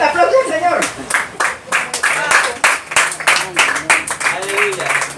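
Church congregation applauding during a Spanish-language sermon, a steady mass of clapping held at even loudness across the clip, with voices calling out and talking underneath.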